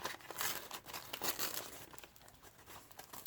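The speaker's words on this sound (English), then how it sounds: "If I can get the tape off of it." Packing tape peeled off a plant shipping box, a stretch of close crinkling and tearing with rustling bursts that fade to softer crackles, with no talk.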